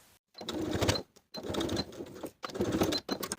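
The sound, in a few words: sewing machine basting pocket onto front pant piece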